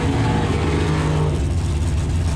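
A Super Pro altered drag race car, the Mr. Hyde, launching hard down the strip, a loud dense engine roar with a steady low drone that thins slightly as it pulls away, no voices.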